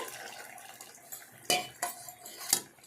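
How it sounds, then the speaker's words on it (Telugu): Tamarind juice is poured into a cooking pot of simmering cucumber and drumstick, a faint wet splash under a few sharp clinks of metal against the pot. "ఇదండి చింతపండు రసం వేస్తున్నానండి"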